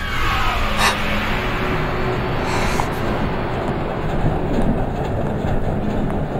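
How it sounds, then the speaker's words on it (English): The engine of cargo train number 531 runs at a maintenance dock in an anime, giving a loud, steady rumbling roar with a dense rail-like rattle and no talking. "the engine assigned to cargo train number 531 at maintenance dock 4 has just been turned on"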